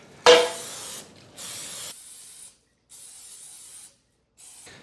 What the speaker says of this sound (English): I need to grease my English muffin rings.